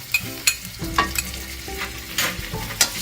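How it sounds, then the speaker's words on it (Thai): A spatula stirs chilli paste and garlic frying in about two spoons of oil for a stir fry of plant-based meats with fresh chilli, scraping and clacking rhythmically over a steady sizzle. "ผัดพริกก็สุกก่อนนะคะให้หอมนะคะ"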